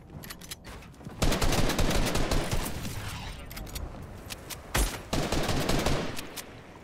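Gunfire in the video game Fortnite, with dense bursts of rapid automatic shots and clattering impacts and a short pause between volleys, fairly loud and close.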